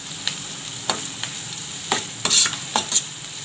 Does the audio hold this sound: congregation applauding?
no